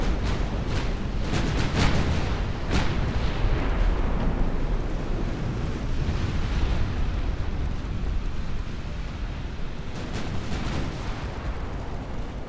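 In the naval video game Ultimate Admiral: Dreadnoughts, a torpedo strike rumbles as a continuous deep explosion, with sharp cracks and pops near the start and again near the end.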